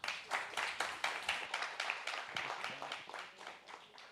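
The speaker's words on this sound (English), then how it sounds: "A huge round of applause as I invite him to deliver the keynote speech." An audience applauds a keynote speaker at a campus event, a dense run of clapping that holds steadily for about four seconds with no voices over it.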